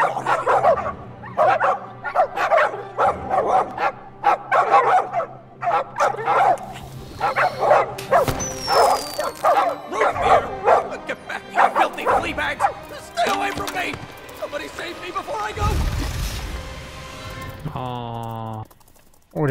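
Dogs barking and yipping in the pirate video game Sea of Thieves, loud repeated barks in quick bursts with a whimper near the end, while someone talks over them.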